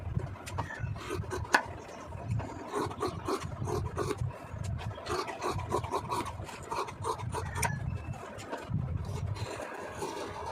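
Scissors cutting through a thick stack of blouse fabric layers at once, a steady close rasping, crunching shear with repeated strokes throughout, no talking.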